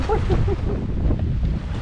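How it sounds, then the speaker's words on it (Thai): Strong wind gusts buffet the microphone at the seashore on Ko Si Chang island, a steady low roar with faint surf and water movement beneath, no voices. "เนื่องจากลมค่อนข้างแรงนะ"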